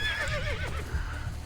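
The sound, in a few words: horse neighing in video game Assassin's Creed: Brotherhood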